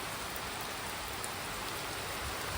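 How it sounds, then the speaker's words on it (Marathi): Steady rain falls in a dense, even hiss with no breaks, close and moderately loud, with no voices over it. "हा बघा पाऊस"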